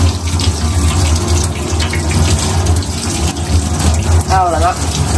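Fresh crabs are rinsed under a running tap, a steady close stream of water splashing over them, with a brief voice-like sound near the end.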